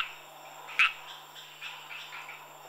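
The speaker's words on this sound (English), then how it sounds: "the mating calls of some of Madagascar's 300 frog species fill the jungle" Frogs give mating calls at night in the Madagascar jungle, a sharp close croak followed by a chorus of softer chirping calls over a steady insect hum.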